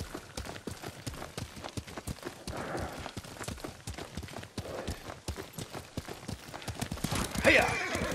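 Horse hooves clip-clop at a steady gallop in Ghost of Tsushima, with a whinny breaking out near the end, all fairly quiet under a soft game background.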